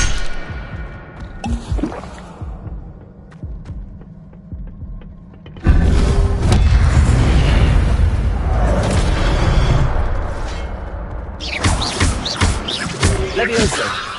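A fire spell cast in Hogwarts Legacy bursts into a loud, dense whooshing roar partway through, holding steady for several seconds before easing off, with quieter game effects before and after.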